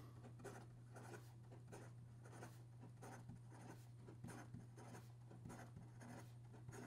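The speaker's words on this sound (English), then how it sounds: "In regard to some fast writing," A Nakaya Decapod Twist fountain pen writes fast across paper, making quick, close scratchy strokes in a steady irregular rhythm over a constant low hum, with no voices.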